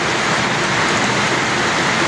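Monsoon (habagat) rain falls in a dense, constant hiss, loud and close with no distinct drops or pauses, and no one speaking.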